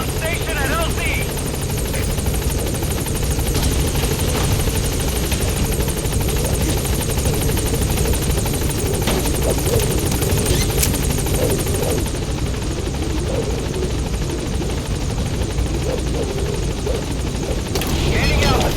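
Helicopter hovering, landing and lifting off in the game Metal Gear Solid V: The Phantom Pain, a loud, steady rotor thrum and turbine whine filling the whole stretch, with radio voices over it.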